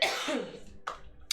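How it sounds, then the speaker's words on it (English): A single close, harsh cough that trails off, followed by a couple of short breathy bursts. "I'm really starting to get uncomfortable with the cough."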